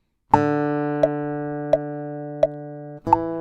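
A classroom guitar plays a quick scale exercise, five distinct plucked notes about 0.7 seconds apart, each ringing clearly and sustaining into the next, heard alone without talk.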